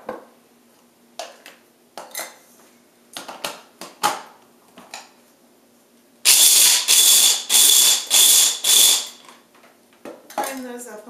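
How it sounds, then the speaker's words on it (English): Cashews for gluten-free granola are ground in a grinder in a few loud, harsh whirring bursts, preceded by soft clinks and handling noises in a kitchen; a voice speaks briefly near the end. "I'll grind those up a little bit."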